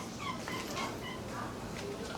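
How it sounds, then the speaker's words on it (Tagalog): A dog whimpers and yips softly in the background, faint and brief, beside a workspace where an old scooter is being restored. "May aso pa."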